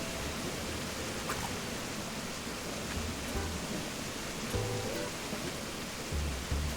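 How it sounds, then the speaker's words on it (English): Steady broadband rush of a waterfall in Animal Crossing: New Horizons, a constant even wash of falling water with no breaks, fairly quiet and continuous throughout. "it's so hard to hear over the waterfall"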